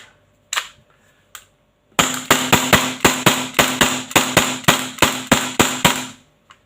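An AAP01 gas airsoft pistol fires two isolated sharp cracks, then a fast, evenly spaced string of about fourteen loud, close shots before falling silent.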